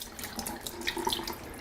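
Liquid from canned collard greens splashes and trickles steadily through a strainer into a sink, a close watery pour with small gurgles and drips.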